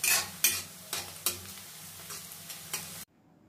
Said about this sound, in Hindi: देखिए प्याज अपना रंग बदलने लगा है, तो और थोड़ा सुनहरा होने तक भून लेते हैं इसे